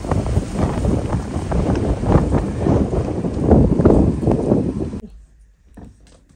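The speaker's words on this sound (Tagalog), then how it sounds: "Pag sa labas lang pala, grabe ang lakas ng hangin." Strong gusty wind buffets a microphone outdoors during a storm warning, a loud, continuous roaring rumble for about five seconds before it suddenly drops to near quiet.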